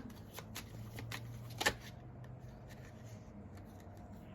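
Soft, close riffling and slapping of tarot cards being shuffled, with papery flicks repeating over a faint background hum.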